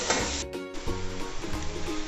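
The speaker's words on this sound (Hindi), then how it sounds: "चिकन पीसेस को व्यूअर्स हमने 5 मिनट तक फ्राई करना है।" Large chicken tikka pieces sizzle and fry in a pot, a steady crackling hiss with a few brief scraping stirs, close and clear with no talk.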